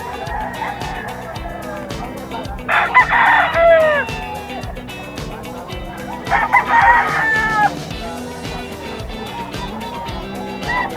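A kelso bulik gamecock rooster crows twice, loud and close, each crow a long rising-and-falling call, over a steady low hum with scattered clucks and faint voices between.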